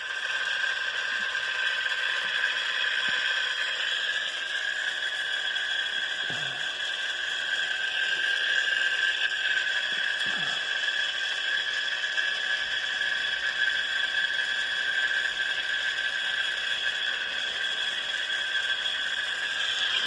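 A G-800 antenna rotator turning counterclockwise gives a steady mechanical whine with a constant high-pitched tonal hum, faint and continuous, with a couple of brief low creaks partway through.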